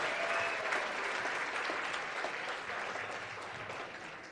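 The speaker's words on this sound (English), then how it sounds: "How about a round of applause for our town crier, Daniel?" Audience members applaud a town crier in a steady, continuous round of clapping, fairly distant and soft, holding even before easing slightly at the close.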